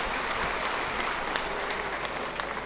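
Loud, steady applause from a large audience at a Pravasi Jat convention, many hands clapping together in a dense continuous wash honouring the women present, with no voices rising above it.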